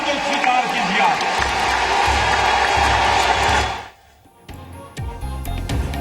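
A large audience at a speech bursts into loud, dense applause and cheering that holds steady for about four seconds, then drops off sharply as a speaking voice returns.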